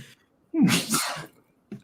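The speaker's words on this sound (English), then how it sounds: "Oh, why am I sneezing?" One sharp, close sneeze bursts out during a morning talk show, with a faint breath just before it and another short breath sound right after.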